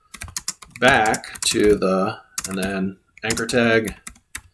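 Rapid clicking of computer keyboard keys while HTML links are typed, heard in short bursts under and between steady talking.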